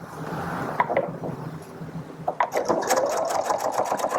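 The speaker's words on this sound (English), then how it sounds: "Now I'm going to sew through this material." A sewing machine stitches through stretch fabric in two bursts of rapid, rhythmic needle clatter, with a short pause between them, heard close and alone.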